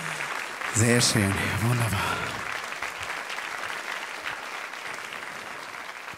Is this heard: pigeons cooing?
no